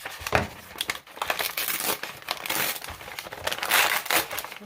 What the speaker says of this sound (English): This is some intense packing paper.